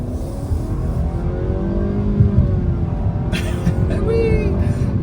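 A 2025 Nissan Sentra accelerating in sport mode, its engine rumbling steadily with a rising whir as revs climb, heard close from inside the cabin without talk.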